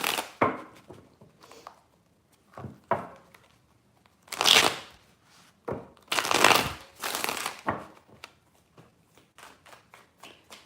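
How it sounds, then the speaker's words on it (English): Tarot cards are shuffled by hand in several separate bursts of crisp riffling and slapping, close and clear, with quiet pauses between each shuffle. "3 shuffles."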